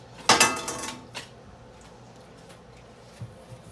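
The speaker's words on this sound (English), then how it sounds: "We're going to add in the sugar, the 2/3 of a cup, and our maple syrup. We're going to stir this to combine well." A spoon clinks and scrapes inside a pot while sugar and maple syrup are stirred together, a few sharp knocks at the start fading to faint, sparse taps.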